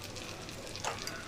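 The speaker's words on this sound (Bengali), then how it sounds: "অল্প আছে কিন্তু এগুলো ভাজছি।" Snacks frying in hot oil in a pan, a steady soft sizzle throughout with a brief brighter crackle near the end, close and fairly quiet.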